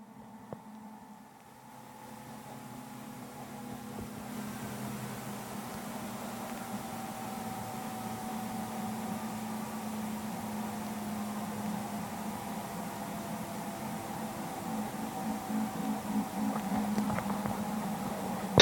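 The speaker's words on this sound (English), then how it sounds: "we just need to wait for the blades to slow down for a further another 10 seconds" Robinson R66 helicopter rotor blades winding down after engine shutdown, a steady whooshing, humming drone with low tonal whine that holds fairly constant, gradually growing slightly louder and rougher toward the end, no talking.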